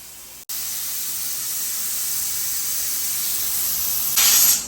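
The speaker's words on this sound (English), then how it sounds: "That was steam." Steam hisses steadily and loudly from a new pressure canner, a broad continuous rush that swells and brightens sharply near the end before cutting off.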